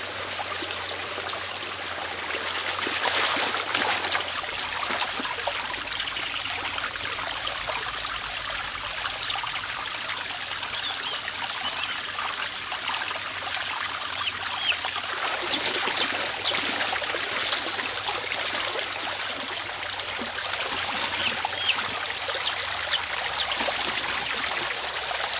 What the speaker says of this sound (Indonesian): ada air terjun kecilnya